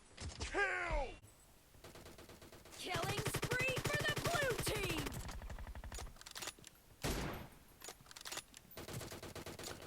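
Rapid gunfire bursts from PUBG Mobile gameplay, with sniper and rifle fire crackling in quick volleys alongside other game sounds and a brief vocal sound.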